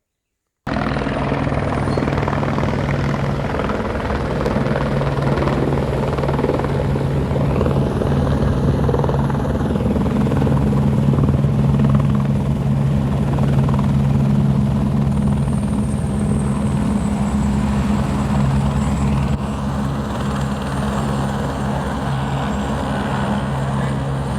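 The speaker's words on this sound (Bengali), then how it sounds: "এখন যে হেলিকপ্টারটি আমরা দেখছেন এই হেলিকপ্টারটি এসছে সিধা জম্মু থেকে" A helicopter arriving from Jammu drones steadily and loudly throughout, its low rotor hum constant and close, with no voices over it.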